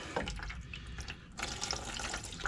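Diesel fuel drains out of a Chevy Duramax LP5 fuel filter housing into a regular pan below, a close, uneven splashing trickle that thickens into a fuller pour partway through.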